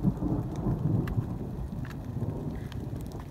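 Steady rain and a low rumble of thunder fill a storm on the Appalachian Trail, a constant wash of sound with no voices.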